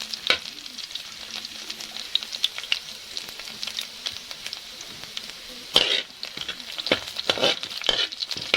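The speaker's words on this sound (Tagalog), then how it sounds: "Ito yung magiging golden brown ang garlic guys." Garlic frying in a pan until golden brown, a close, steady crackling sizzle scattered with sharp pops and spatters, briefly swelling louder with a burst of stirring or tossing toward the end.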